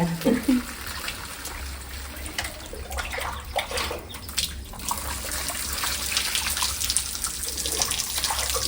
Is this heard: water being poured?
yes